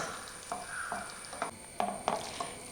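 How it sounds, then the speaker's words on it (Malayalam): Chutney ingredients sauté in a pan with a soft, quiet sizzle, broken by a few light scraping stirs at irregular intervals. "നന്നായിട്ടൊന്ന് മൂപ്പിക്കാം എല്ലാം നന്നായിട്ടൊന്ന് വഴറ്റിയെടുത്തിട്ടുണ്ട്"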